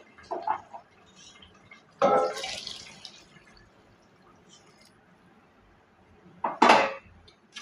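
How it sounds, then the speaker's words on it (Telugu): A few clanks of a pot and utensils with a brief splash of water poured in, separated by quiet pauses. "దీంట్లో వాటర్ పోసేసుకోవాలి"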